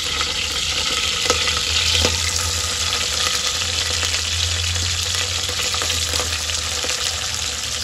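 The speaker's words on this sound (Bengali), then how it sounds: "একটু জিরে ফোড়ন দিচ্ছি অল্প করে, আর একটু পেঁয়াজ দিচ্ছি" Cumin seeds and onion sizzle in hot oil at the start of a home-style mutton curry, a loud, close, constant frying crackle with occasional stirring clicks and no talking.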